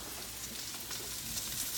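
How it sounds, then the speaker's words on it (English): Cabbage and Brussels sprouts sizzle and crackle steadily in olive oil in a pan on high heat, a close, even hiss with small pops and no voices. "You can hear it sizzling."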